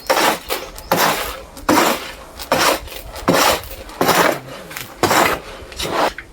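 Organic and chemical fertilizer ingredients, including a 46-0-0 nitrogen formula, are mixed together by hand, heard as loud rhythmic scraping and rustling strokes repeating about once a second, close up with no talk.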